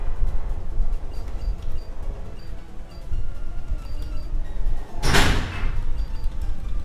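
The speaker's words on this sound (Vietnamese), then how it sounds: "Cái cửa phòng tôi gió vừa thổi nó đổ nó đóng sập hơi mạnh" A bedroom door is blown shut by the wind, landing as a single loud, sharp slam partway through over a low background hum, with no talking.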